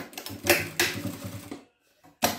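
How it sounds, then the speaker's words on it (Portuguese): Sewing machine with presser foot stitching fabric for a trapezoid toiletry bag, a rapid rhythmic mechanical chatter for over a second, a pause, then a short restart. "Vou costurar essa parte aqui embaixo, ó, com o pé de máquina."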